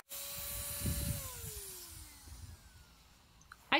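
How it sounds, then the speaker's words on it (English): A handheld rotary tool whines at high speed while sanding wooden fence cutouts, its pitch sliding downward as it slows and spins down, with faint scraping underneath and a brief clatter at the end. "I used this rotary tool I got for Christmas to sand the majority of the wood cutouts"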